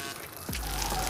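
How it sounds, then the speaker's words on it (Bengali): Water pours gently onto a small DIY hydro turbine, a brief close splashing rush that starts abruptly and continues steadily. "দেখতে পাচ্ছেন এখান দিয়ে আমরা জল পড়ছে, তো জলটা কিন্তু খুবই আস্তে দিয়েছি আমরা।"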